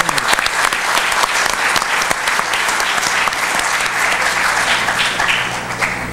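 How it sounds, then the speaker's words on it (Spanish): Dense, sustained audience applause fills a mining-sector award ceremony during a round-table event, steady and loud for about six seconds with scattered sharper claps standing out near the start. "Un aplauso, por favor."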